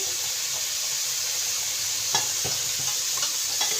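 Mixed vegetables cooking in a pan give off a steady, even hiss and sizzle with a few soft knocks and stirring clicks, close and unbroken, with no one talking.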